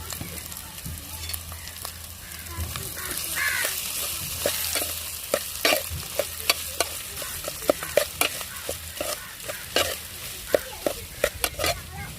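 Potatoes stirred into a frying pan of partly cooked masala for a potato kurma served with puri. A steady sizzle runs under a series of sharp, repeated spoon scrapes and clicks that quicken toward the end.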